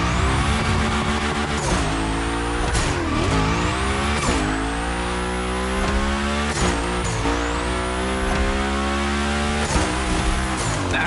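A car in The Crew Motorfest slides through a Hoonigan gymkhana course, its engine revving hard and rising and falling while the tires squeal through repeated skids. Loud and close, with no talk.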